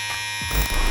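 Monster Clipper Fade Blade hair clipper with a rotary motor running at about 6,500 RPM gives a steady, close electric whine with a buzzing hum that grows slightly rougher and louder partway through.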